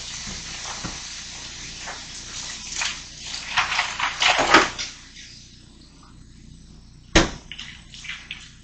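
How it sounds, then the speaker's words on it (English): A hot pot of brewing wort is lowered into a sink of cold water, giving splashing, sloshing and a hissing burst of water that swells and fades, followed by a sharp clunk near the end. "Put it in my sink full of cold water."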